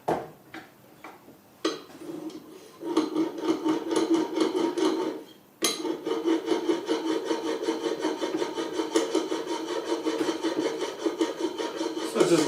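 A PM-V11 steel plane blade in a Veritas honing guide is pushed back and forth on a diamond sharpening stone, a close, steady rasping scrape in rapid repeated strokes after a few scattered taps and short rubs.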